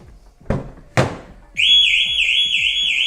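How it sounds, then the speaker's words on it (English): Two sharp thuds, like a door shutting, then a loud alarm on a 2024 Ford Transit Custom van begins wailing in a rising, looping siren tone close by. "we do also want the alarm to go off"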